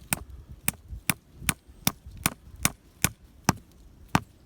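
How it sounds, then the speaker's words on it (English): Light metal-on-wood taps repeat about a dozen times at an even pace, each a crisp, close knock, as a maple sap spout is set into a tree. "lightly tap, like you're setting a nail."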